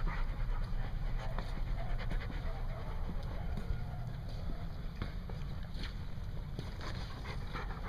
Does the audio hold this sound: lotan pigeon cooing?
no